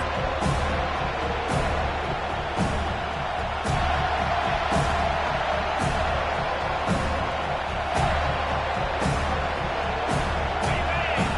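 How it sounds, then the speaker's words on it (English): Steady, loud stadium crowd roar in the College Football 25 video game, a dense continuous wall of noise with periodic sharp accents, building as fans push for a fourth-down stop before halftime. "This crowd busting the decibel meter and trying to will a 4th down stop."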